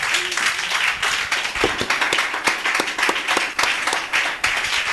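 Congregation in a French-speaking church service applauding, a dense, continuous wash of many hands clapping at steady loudness for several seconds, with a few sharper individual claps standing out.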